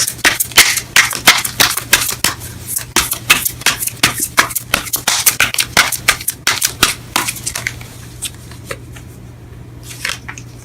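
Tarot cards shuffled in rapid, crisp riffling bursts close by, a dense run of sharp papery snaps that thins out toward the end as a card is drawn, with no talking.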